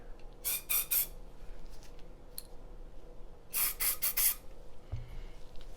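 Bore Bright cleaner sprayed into a gun barrel comes in two short close-up bursts of hissing spray, each made of a few quick pulses, with quiet handling noise in between.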